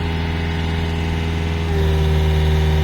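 A Yanmar VIO55-5B excavator's diesel engine runs close and loud, its steady low drone rising in pitch and strength partway through as the throttle opens to full.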